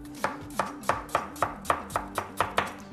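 A knife chops through peeled Granny Smith apples on a cutting board in about ten crisp, evenly spaced strokes, close and clear with no talking.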